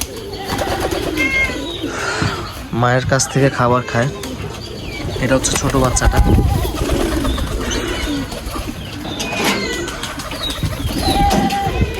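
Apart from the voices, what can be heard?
pigeons cooing in a loft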